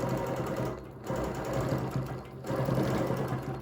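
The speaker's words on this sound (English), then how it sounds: "maybe I make sure the needle goes up and down so that I've got a good stitch there so it's not so rounded" A sewing machine stitches along a ruler, a steady rapid mechanical whir close by that pauses briefly twice and resumes.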